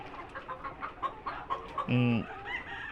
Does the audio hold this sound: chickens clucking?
yes